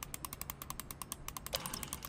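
A mechanism being turned in the video game What Remains of Edith Finch, giving a rapid, evenly spaced series of ratcheting clicks, quiet and close, with no voices.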